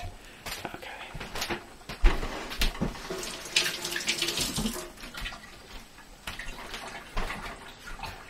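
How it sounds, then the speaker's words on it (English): Running tap water pours steadily into a sink as hands are washed under the stream, with splashing and shifting flow over about eight seconds, close and fairly loud, no talk over it. "let me wash my hands"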